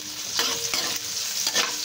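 Onions, garlic and ginger sizzle in a pan for sinigang na bangus, a close, bright frying hiss with quick scraping strokes of a spatula stirring through it.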